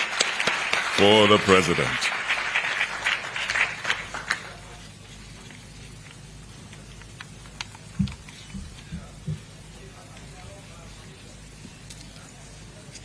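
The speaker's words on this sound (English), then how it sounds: "One more time, a big round of applause, ladies and gentlemen," An audience at a presidential bill-signing ceremony breaks into a loud burst of applause that lasts about four seconds, with a voice speaking over it, before the clapping fades into quiet room tone and a few scattered knocks.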